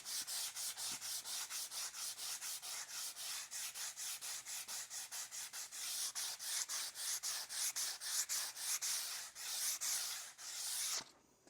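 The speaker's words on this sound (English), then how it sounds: "I'm just going to take some 150 grain sandpaper and just smooth it out some" A black walnut board is sanded by hand with 150 grit sandpaper, giving a steady, rhythmic rasping of quick back-and-forth strokes, close and alone, ending in one final rub.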